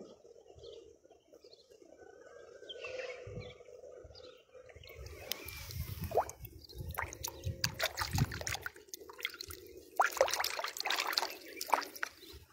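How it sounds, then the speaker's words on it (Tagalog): Water overflows from a farm water storage tank, starting as a faint trickle and building into a steady, splashing pour with irregular drips, fairly close, with occasional faint birdsong and no talk. "Kasi nag-overflow yung tubig."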